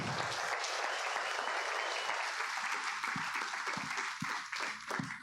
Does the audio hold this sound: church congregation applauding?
yes